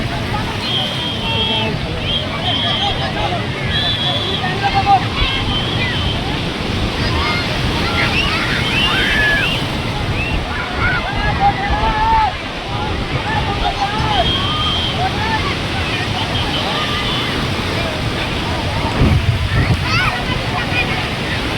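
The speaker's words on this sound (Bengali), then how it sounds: "হাওয়ার আওয়াজে কিছু শোনা যাচ্ছে না কিছু ফোনে" Sea waves surge on Digha beach under strong wind, a loud, continuous rush of surf with wind buffeting the microphone throughout, and people talk over it.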